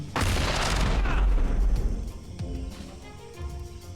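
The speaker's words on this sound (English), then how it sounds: "Let's throw a nade." A thrown grenade goes off in a video game with a loud, close boom that rolls into a rumbling tail and fades over a few seconds.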